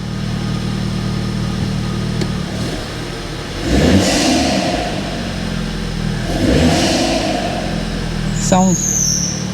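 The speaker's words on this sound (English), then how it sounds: "Sounds throaty because the bottom of the airbox is off." A BMW 220i M-Sport petrol engine with the bottom of its airbox removed idles with a throaty note, giving two clear revs that swell and fade back, heard fairly close in steady surroundings.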